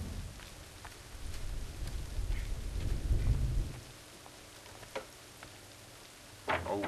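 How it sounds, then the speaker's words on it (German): Rain and rumbling thunder in the video game Assassin's Creed 3: a steady downpour under a low thunder roll that swells and fades midway, followed by a few sharp drip-like clicks near the end. "Trotzdem regnet es."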